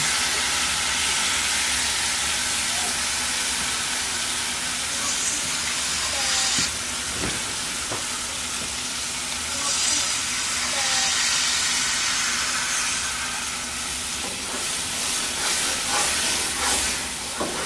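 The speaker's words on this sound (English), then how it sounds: "And then he's just cooking it on butter, as you saw." A tomahawk steak sizzles in butter in a pan, a steady loud hiss and crackle that runs the whole time, with faint voices in the background.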